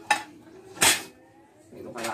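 Household dishes and utensils clink together in three short, bright knocks close by, separated by brief quiet gaps, with a voice in the background.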